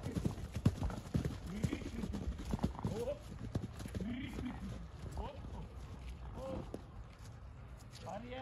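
Two draft horse mares walk outdoors on a morning outing, their hooves clip-clopping unevenly at close range while people talk nearby and a horse snorts.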